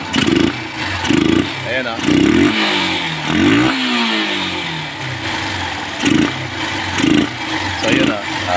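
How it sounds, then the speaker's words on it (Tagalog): A misfiring motorcycle engine idling close by and being revved in short repeated bursts, each rise falling back to a rough idle, with someone speaking briefly over it. "Pag ni-rev mo, no, rev ko, ha."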